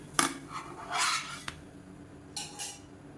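Red rice adai dosa lifted off a pan onto a plate, giving a few sharp metallic scrapes and clinks of a spatula against cookware, close and moderately loud, with brief quiet gaps between them.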